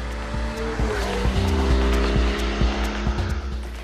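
Porsche 911 sports car driving, a loud, close engine note with rising revs and periodic gear-change pulses, tires squealing briefly, no voices.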